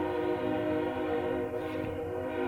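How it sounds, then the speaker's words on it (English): A train in Factorio sounds a long, steady horn-like drone with stacked tones over a low rolling rumble, continuous and fairly loud, no voices. "Oh, wow, look at that. There's a train."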